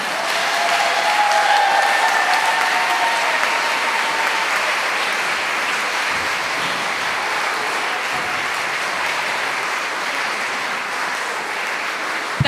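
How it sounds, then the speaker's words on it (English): A steady wash of audience clapping fills a hall at a 2021 Putney Festival opera gala, loud and continuous throughout, tapering slightly toward the end with no talk over it. "Yes, you can applaud."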